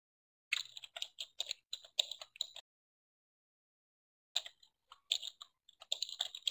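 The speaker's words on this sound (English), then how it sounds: "I'm going to type something real quick" Quiet, close keystrokes on a computer keyboard, two bursts of rapid clicking separated by a pause of near silence.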